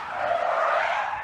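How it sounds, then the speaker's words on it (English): A sports car losing traction gives a brief, steady tire squeal and skid at moderate loudness, with no voices. "He lost traction."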